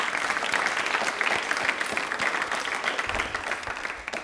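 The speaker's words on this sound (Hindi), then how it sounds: "एक बार तालियां प्लीज जोरदार हो जाएं।" A quiz show studio audience applauds loudly: thick, continuous clapping from many hands, steady for about four seconds before easing slightly at the end.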